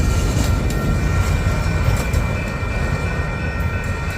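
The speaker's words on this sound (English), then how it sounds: "Oh, that's not long of a train." A Union Pacific freight train rolls past close by, a loud, continuous rumble with rail squeal and faint clattering of cars throughout, no voices.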